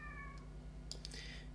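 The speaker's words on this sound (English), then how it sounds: "A cat." A cat meows a couple of times in the video game Kentucky Route Zero, short high cries over a steady low ambient hum and a fading synth tone.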